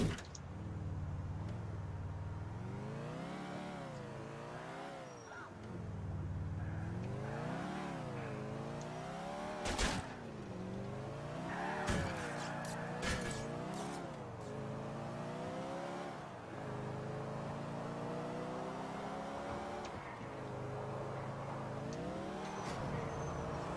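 A car in GTA IV drives steadily, its engine note rising and falling through repeated gear shifts and revs, close and fairly quiet, with a few sharp clicks and knocks along the way.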